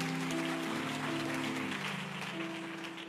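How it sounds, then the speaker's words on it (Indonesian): Church congregation applauding for God, a steady wash of many hands clapping that slowly tapers off, with sustained organ or keyboard tones beneath. "Yang percaya kasih tepuk tangan untuk Tuhan."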